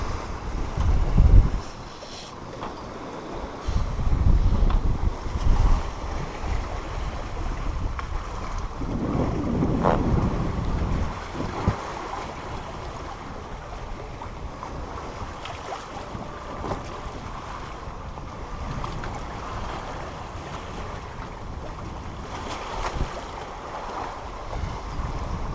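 Steady wind rushes across the microphone while waves wash along the hull of a sailboat running downwind at about 6 knots in light wind on the open ocean between Mexico and Hawaii, with occasional louder gusts and splashes.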